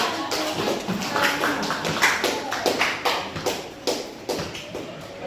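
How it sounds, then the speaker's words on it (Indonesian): A classroom of students performs a rhythmic spirit clap, a patterned series of sharp hand claps in groups with short pauses between them, fairly close and without talking. "Ya, tepuk tangan semangat."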